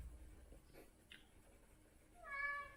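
A house cat gives a single drawn-out meow near the end, heard in a room during a physics lesson, over faint background noise with a few soft knocks earlier.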